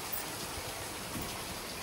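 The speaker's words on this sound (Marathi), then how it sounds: "आज पाऊस पडतोय" Steady rain falling outdoors, a constant dense wash of drops with no talking.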